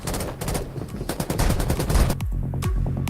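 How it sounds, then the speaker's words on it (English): Rapid bursts of gunfire in the game Farlight 84 crackle and pop in quick succession, loud and close, with a low rumble underneath. "Can you hear that gunfire, guys?"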